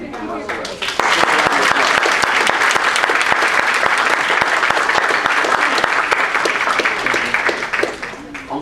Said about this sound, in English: ask for the loudest round of applause for every contestant this evening that you possibly can muster